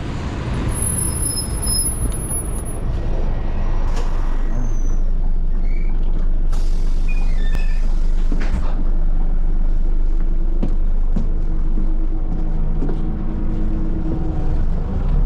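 City bus 361 arrives at a New Zealand roadside near a roundabout, a loud, steady engine rumble with hissing air brakes and traffic noise around it, no one speaking.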